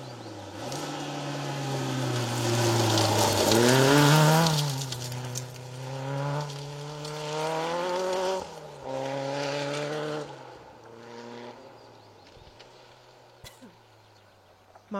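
A Peugeot 205 GTI race car roars past with its engine note rising and falling, loud and close, then fading into a quieter idle-like drone.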